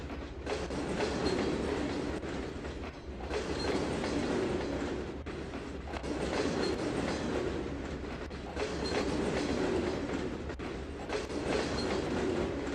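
A long freight train rolls past in the Trainz 2022 railway simulator, a steady loud rumble of wheels with rhythmic clickety-clack over rail joints, swelling and easing in waves, with no talking.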